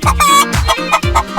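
Toy farm chickens cluck in quick repeated bursts, close and loud, with short crowing-like calls mixed in and no talking.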